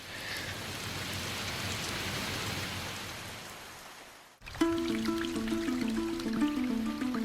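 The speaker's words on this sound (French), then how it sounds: "C'est une vraie pluie tropicale et la première averse depuis presque une semaine." Steady heavy tropical rain hisses for several seconds, then cuts off abruptly as tonal music begins.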